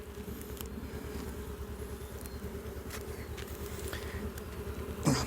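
Honeybees hum in a low continuous drone around open hive frames in mid-April, a close, soft buzzing swarm with a faint scrape near the end.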